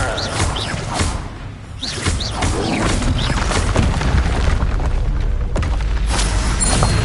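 Confringo spell blasts in the game Hogwarts Legacy, a dense run of booming explosions and whooshes that stays loud and continuous throughout, with repeated impacts layered over a rumbling bed.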